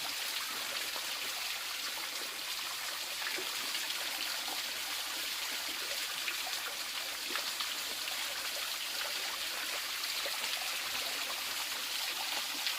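Water splashing and trickling as someone washes their face with stream water outdoors in hot weather, a steady close wet patter running throughout with no talk.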